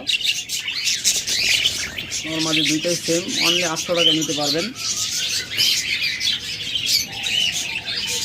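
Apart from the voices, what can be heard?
caged pet birds chirping, budgerigars or lovebirds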